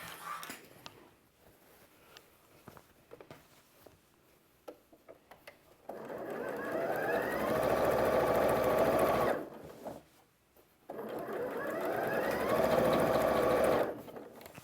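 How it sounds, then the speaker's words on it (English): Sewing machine stitching quilt block strips together with nested seams, running in two steady bursts of several seconds each, with quiet handling sounds and pauses before and between the runs. "start sewing my big strips together"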